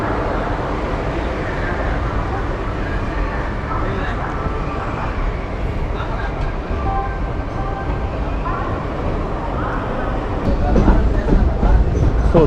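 A Madurai to Villupuram train pulls out of Tiruchirappalli Junction in the evening, a loud, steady rumble of wheels and carriages heard from inside, swelling near the end with rattling clatter as it gathers speed.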